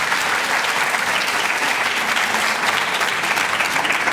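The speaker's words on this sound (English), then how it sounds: "You can give him a round of applause." Conference audience at a breast cancer research lecture giving a speaker a round of applause, dense steady clapping filling the hall throughout.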